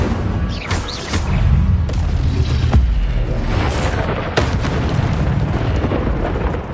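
Fire spell cast in the video game Hogwarts Legacy, a series of dense booming bursts and crackling flares layered over continuous rumbling combat noise, loud and close.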